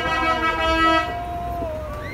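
Car horns toot in celebration in a small French town after a final, a long sustained horn tone with a second horn joining, heard from a canal boat with some distant shouting.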